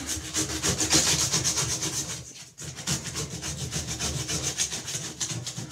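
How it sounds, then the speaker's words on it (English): Hand scraper removing hard water deposits from a bathtub surface, a continuous close rasping scrape in quick back-and-forth strokes, with a brief pause midway. "This scraper is also gonna take all that off."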